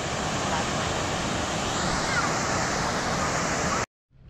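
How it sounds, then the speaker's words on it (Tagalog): Tambuang Falls, a small waterfall in Sulu, gives a steady, loud broadband rush of falling water close by, cutting off abruptly near the end. "we are now here at the Tambuang Falls here in Sulu."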